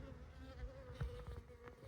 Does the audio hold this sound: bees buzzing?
yes